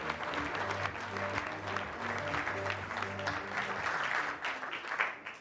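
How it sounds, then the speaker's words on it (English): Audience applause at a Techonomy 23 conference event in Lake Nona, a steady dense wash of many hands clapping that holds for several seconds before a speaker is welcomed onstage, with a low hum underneath. "please give me a round of applause for welcoming Jim McCann"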